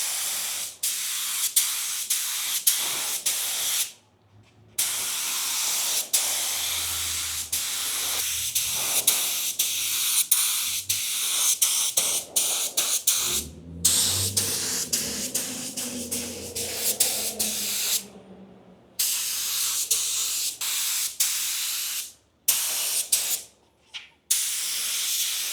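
A budget spray gun sprays clear coat onto a car at about 25 psi with no booth, a loud, close hiss running in long passes broken by brief pauses, with no voices.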